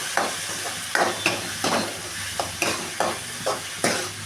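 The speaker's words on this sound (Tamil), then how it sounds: "இதை நல்லா வதக்கிக்கணும்" Onions and ginger paste sautéing in a pan for a yam curry, a steady sizzle broken by about eight sharp scraping strokes of a spoon spread evenly through the stretch, close and clear with no voices.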